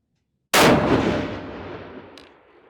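A single 7mm PRC rifle shot at an outdoor range, built on a Defiance Anti-X long action: a loud, sharp crack bursts in and then rolls off in a long echoing decay, with no voices.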